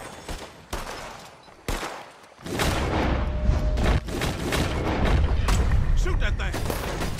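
Gunfire in the Red Dead Redemption 2 video game: several sharp shots with booming tails, then a dense, sustained barrage of firing that stays loud and close throughout.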